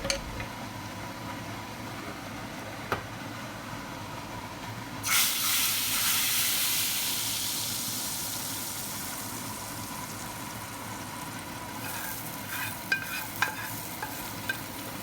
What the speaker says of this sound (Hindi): तड़का तैयार है। इसको दाल के अंदर ऐड कर दूँगी।